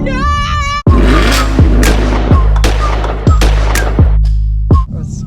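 A supercharged Camaro SS accelerates hard through the gears, loud and close, with a high supercharger whine and repeated sharp shift bangs roughly every second, engine roaring continuously between them.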